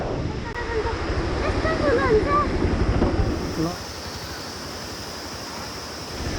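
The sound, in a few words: large river stream flowing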